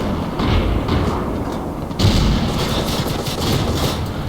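Tank guns firing in a tank video game, a continuous barrage of rumbling gunfire and thuds with a heavier blast at two seconds, loud and sustained.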